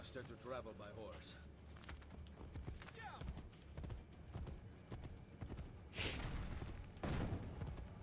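A horse gallops in Assassin's Creed: Brotherhood, its rhythmic clip-clopping hoofbeats thudding steadily under game sound, with a few louder bursts near the end.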